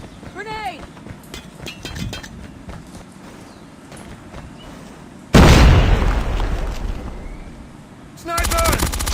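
A grenade goes off in a tactical shooter match: a sudden loud boom with a long rumbling decay, preceded by scattered gunfire and footsteps and followed by another burst of shots, with voices talking over the action.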